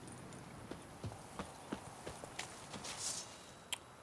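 Roach the horse gallops in The Witcher 3, a series of distinct hoof clops striking in an uneven rhythm over a soft ambient background, fairly close and moderately loud with no talking.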